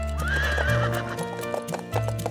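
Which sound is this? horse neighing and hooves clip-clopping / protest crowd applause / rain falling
horse neighing and hooves clip-clopping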